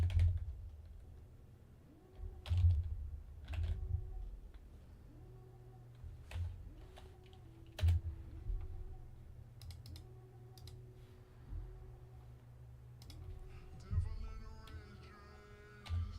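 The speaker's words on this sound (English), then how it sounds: "I'm going to have to type in the link." Keys clatter on a computer keyboard as a link is typed, irregular bursts of close clicks with pauses, over a low background hum.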